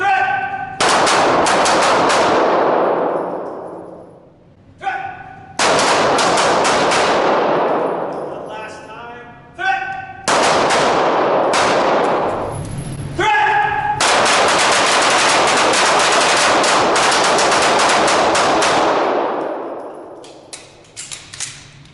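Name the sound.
gunshots from handgun shooting drill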